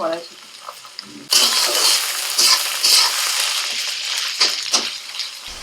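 Vegetables, onion and peas for chowmein hit a hot pan after a quieter start, bursting into a loud, close sizzle that carries on with stirring scrapes and rising swells of frying.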